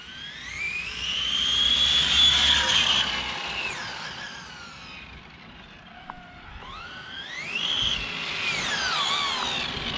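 A 1/5 scale RC Renault Clio 4x4 on a 12S setup with a 650 kV electric motor makes a pass: a high whine swells, sweeps down as it fades, then climbs sharply again, with no talk.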